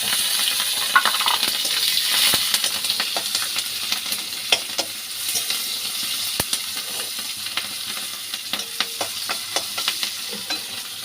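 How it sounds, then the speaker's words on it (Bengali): Nigella seeds, sliced onion and green chillies sizzling and crackling in hot oil left over from frying fish for a Bengali bata fish curry, with steady broadband frying hiss and frequent sharp spatters and stirring clinks, no talk. "এবার ওই তেলেই দিয়ে দেবো একটু কালো জিরে, তারপর দিয়ে দেবো হাফ পেঁয়াজ আর কটা কাঁচা লঙ্কা"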